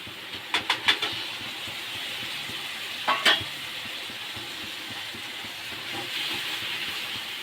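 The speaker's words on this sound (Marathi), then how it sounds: "या मच्छीला तुम्ही जेवढं तेलामध्ये परतून घ्याल एवढी घट्ट होईल अशी ही मच्छी आहे" Fish coated in turmeric, coriander powder, salt, mace and red masala fries in oil with a steady sizzle, interrupted by a few sharp spatula scrapes and clinks near the start and again around the middle.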